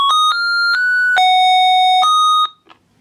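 An AliMed cordless patient alarm sounds a loud, piercing electronic melody of stepped beeping tones, about five or six notes close by, before cutting off abruptly.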